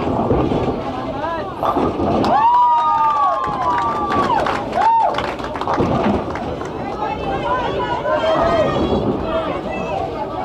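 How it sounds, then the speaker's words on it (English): Cheering squad of spectators at a boys' bowling match, a dense indoor crowd noise with whoops and babble running throughout, with a commentator talking over it. "the McGoldricks have a big cheering squad in front of us"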